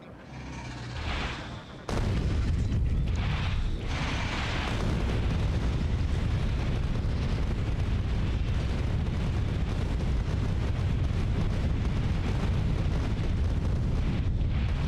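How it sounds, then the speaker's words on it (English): Artillery fire in the video game Factorio: after a brief quieter start, a sudden dense rumble of booming explosions sets in and continues as a heavy, unbroken roar. "Oh, that's artillery there."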